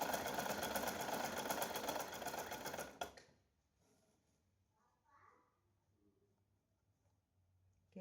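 A sewing machine stitches a child's dhoti in a loud, steady whirring run for about three seconds, then stops abruptly, leaving a quiet room with faint rustling and brief soft noises.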